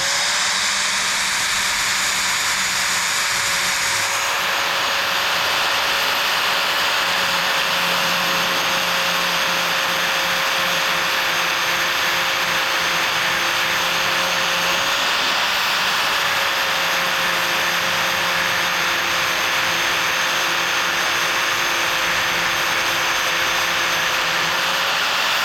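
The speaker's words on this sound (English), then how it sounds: "I'll just grind this thing all the way down." Angle grinder grinding down metal on a go-kart, a steady high-pitched whine with a bright hiss that holds constant, briefly dipping mid-way before resuming, loud and close with no talking.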